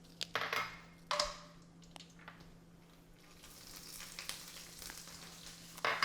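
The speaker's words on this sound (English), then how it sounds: "So while that is heating up, I'm going to saute the bay leaves, the chili," Bay leaves, chili and cinnamon sticks sauté in hot ghee for a chicken curry, giving a soft, crackly sizzle with scattered sharp pops and light clinks of the pan, steady and close with no talking.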